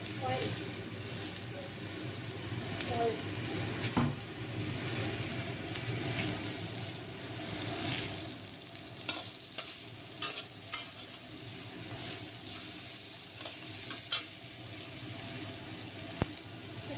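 Tomato paste being stirred and fried in oil in a wok for a Bengali fish curry, a soft sizzle under repeated scraping and tapping of a spatula against the pan, fairly quiet, with light background noise.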